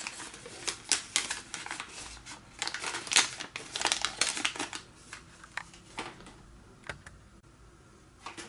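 Origami paper being folded and creased for a hat-and-box model, a close run of crisp crinkles, sharp creasing snaps and soft rustles with no talking.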